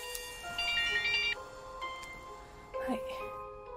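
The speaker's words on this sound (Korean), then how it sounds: "본인이 설정한 벨소리가 아닌 다른 벨소리가 울렸을 때" Electronic phone ringtone from a Korean occult film, bright melodic tonal beeps in short phrases, fairly clear and close, with a voice speaking over parts of it.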